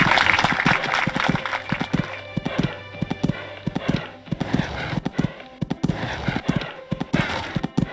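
Rhythmic clip-clop of a horse's hooves cantering in a dressage test at a horse trials event, a regular three-beat pattern of sharp thuds, fairly close and clear, with faint crowd noise between strides.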